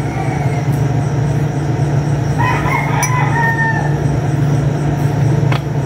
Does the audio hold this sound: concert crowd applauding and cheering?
no